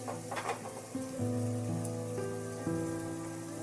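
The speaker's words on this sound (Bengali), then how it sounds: "এবার রাঙালুগুলোকে ভালোভাবে একটু ভাজা ভাজা করে নিতে হবে।" Sweet potatoes fry in a pan over a gas flame, a steady hissing sizzle that stays even throughout, accompanied by soft sustained tones in the background.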